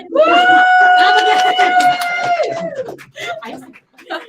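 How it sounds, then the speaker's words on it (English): Audience in a garage bar at a live pre-game gathering of Phillies fans cheers and yells loudly, with a sustained sung or shouted tone over crowd noise, then scattered shouts as it fades. "Clap again."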